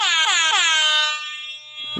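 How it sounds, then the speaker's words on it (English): Three quick blasts of an air horn sound effect, loud and close, the last one ringing out and fading. "It's that bad rap air horn."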